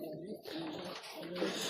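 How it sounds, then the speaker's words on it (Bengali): A pair of local domestic pigeons coo softly in a cage, low rolling calls repeating close by over a quiet background. "এগুলো দেশি কবুতর"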